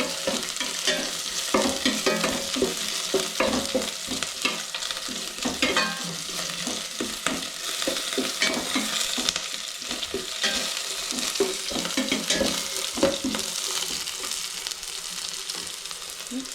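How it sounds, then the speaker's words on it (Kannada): Finely chopped onions frying in a pan for pepper chicken dry, a continuous bright sizzle broken by frequent scraping stirs, close and steady throughout. "ಈರುಳ್ಳಿ ಹಾಕ್ತಾಯಿದ್ದೀನಿ. ಈರುಳ್ಳಿನೂ ಚೆನ್ನಾಗಿ ಫ್ರೈ ಆಗಿ"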